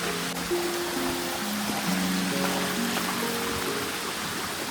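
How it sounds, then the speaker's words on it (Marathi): A waterfall and streams run down a high cliffside in the Konkan during the monsoon, making a continuous, even rush of flowing water with no pauses. "हा पण मस्त वॉटरफॉल आहे"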